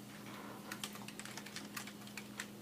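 Someone types on a computer keyboard while entering data into a new spreadsheet. Soft, scattered keystrokes click at an uneven pace, quiet and a little distant, with no speech.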